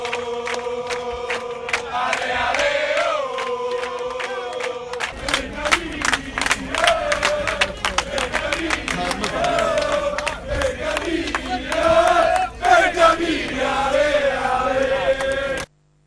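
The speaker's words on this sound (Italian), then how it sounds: "E allora, via col coro." Crowd of about 8,000 Pescara football supporters chanting in unison at the Stadio Adriatico, a loud, steady, rhythmic massed chorus with music-like swells, continuous throughout without talk.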